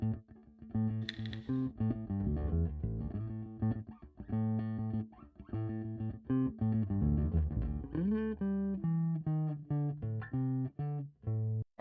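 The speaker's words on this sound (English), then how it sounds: "that's just a DI bass. It's just direct input." Unmixed bass guitar recorded through a direct input, plucked notes in a steady groove with a dry, close tone and no effects, with no voices.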